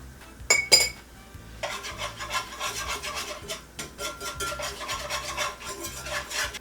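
A utensil stirs and scrapes flour gravy across a hot pan for Southern chicken fried steak: a couple of sharp metallic clinks, then continuous rhythmic rasping strokes, close and fairly loud.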